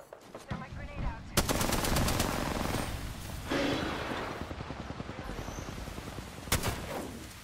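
Gunfire in Apex Legends, rapid automatic bursts crackling in quick repeated volleys, close and loud, with gaps between bursts and talk in the background.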